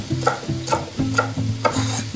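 Potatoes being stirred in a pan for minestrone soup, with a soft sizzle under rhythmic scraping strokes repeated about every half second.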